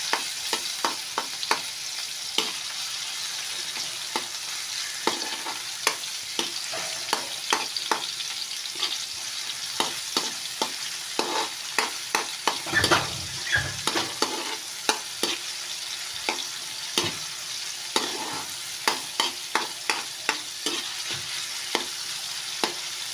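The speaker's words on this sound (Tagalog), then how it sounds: "Haluin lang natin." Meat for menudo frying in a hot pan, with a steady bright sizzle and repeated scraping stirs from a utensil, close and continuous.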